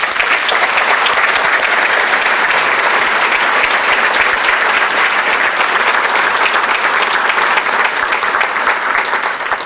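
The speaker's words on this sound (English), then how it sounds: "can we give them one more round of applause, please?" Loud, sustained applause from an audience at a police awards ceremony honoring officers, detectives and employees of the year, dense continuous clapping for nearly ten seconds.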